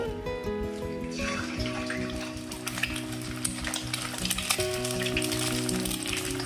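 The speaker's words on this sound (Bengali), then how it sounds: "তেলটা ভালো মতো গরম হয়ে এলে আমি ওর মধ্যে 2 খানা ডিম ফাটিয়ে দিয়ে দেব" Two eggs cracked into hot white oil in a wok for chicken fried rice, giving a loud, dense, continuous sizzle and crackle with small pops throughout, close up and without voices.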